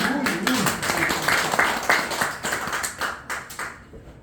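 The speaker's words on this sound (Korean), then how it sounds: "박수 한번 주세요" An audience at a feng shui lecture in Korea claps together in a brisk, lively burst that tapers off into scattered claps near the end.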